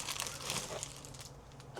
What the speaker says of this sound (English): This is just a plastic bag.